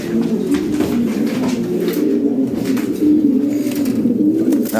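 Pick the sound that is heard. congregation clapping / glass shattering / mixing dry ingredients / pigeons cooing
pigeons cooing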